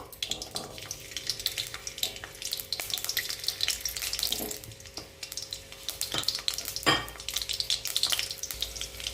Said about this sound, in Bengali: তেল আমার গরম হয়ে গিয়েছে তেলের ওপর আমি দুটো কাঁচা লঙ্কা একটা শুকনো লঙ্কা আর পাঁচ ছ কোয়া রসুন দিয়ে দেব